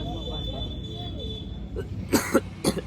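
A few harsh coughs in quick succession near the end, close and loud, following some faint muffled voices and background noise.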